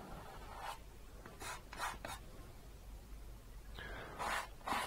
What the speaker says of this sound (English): I've never used a toothbrush to paint with before.